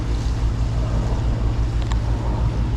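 Sailboat motoring under engine power at sea, a loud steady low engine drone with wind noise buffeting the microphone, no talk.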